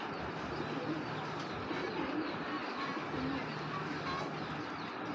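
A racing pigeon coos softly amid a steady background rumble with passing rail-like noise, the bird's low calls fairly faint and partly masked.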